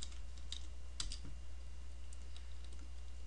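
Code typed on a computer keyboard, a few soft scattered keystroke clicks clustered near the start and fading into sparse taps over a steady background hiss, quiet and close.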